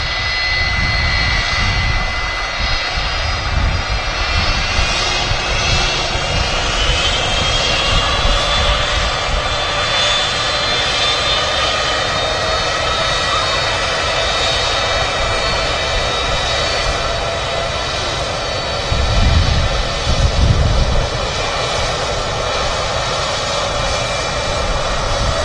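Jet aircraft engines at Manchester Airport roar loudly and continuously with a high whine over a broad rumble, holding steady as the plane passes, with a brief low surge near the end.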